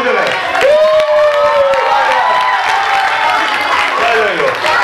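A loud crowd of children at a Hungarian carnival dress-up party claps and cheers, with excited shouting and an adult voice calling out over the noise.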